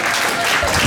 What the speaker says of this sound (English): And let's clap for Lig'e.